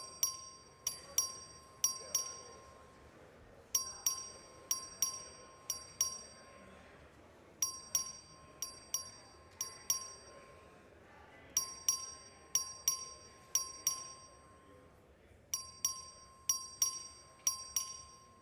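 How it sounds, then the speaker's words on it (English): A voting bell rings repeatedly in a legislative House chamber, with short bright dings recurring in quick bursts at a steady rhythm over a quiet room. "Clerk, ring the bell."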